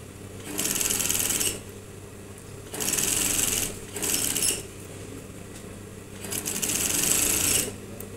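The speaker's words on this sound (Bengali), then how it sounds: "একসাথে চাপ সেলাই দিচ্ছি, অর্থাৎ টপটিস" Sewing machine topstitching a shirt seam in three bursts of steady rapid stitching, near and fairly loud, with short quiet pauses between runs and a low hum underneath.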